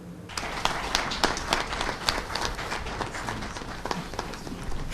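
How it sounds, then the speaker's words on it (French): A crowd at the Togolese Football Federation congress in Lomé applauds with a dense patter of clapping that holds steady, with a few sharper claps standing out, loud and close. "Des applaudissements mérités pour le football togolais"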